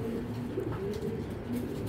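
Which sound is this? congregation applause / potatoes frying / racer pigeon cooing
racer pigeon cooing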